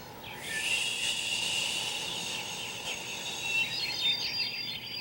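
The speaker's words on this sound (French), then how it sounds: "c'est le frémissement des feuilles" Leaves rustle in a forest as a steady, soft hiss of foliage, with faint high bird calls and insect-like chirps drifting in and out.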